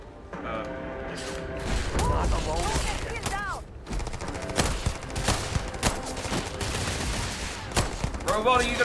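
Pistol fire in the space game Starfield, sharp shots scattered through a busy mix of mechanical clanks, creaks and game sounds, with occasional voice.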